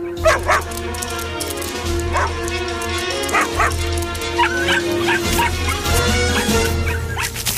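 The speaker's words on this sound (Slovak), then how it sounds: "Šteniatka, počujem ich." Several puppies bark and yip in high, excited bursts, with a few whimpers, over a steady low hum.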